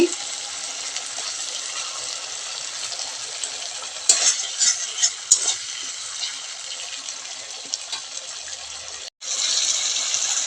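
Spices fry in a pan with a raw green tomato, giving a continuous close sizzle with a few utensil clinks and scrapes in the middle and a short break near the end before the hiss resumes.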